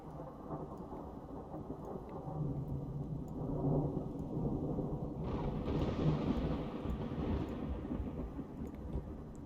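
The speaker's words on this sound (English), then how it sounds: "it's getting stormy" Thunder rolls through a rainstorm in Russian Fishing 4, a long, deep rumble over steady falling rain, swelling midway as a hiss of heavier rain joins in.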